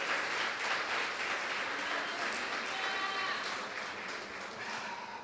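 A church congregation applauds during a sermon, with continuous clapping mixed with faint voices that gradually softens toward the end.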